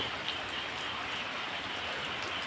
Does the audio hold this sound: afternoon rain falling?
yes